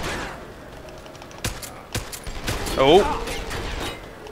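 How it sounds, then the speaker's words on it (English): Enemy gunfire in Deus Ex: Human Revolution from a spin-up heavy gun, a few sharp shots scattered then a denser burst near the end, with a brief voice exclaiming under the action. "Just wait for him to stop firing because he takes time to spin up"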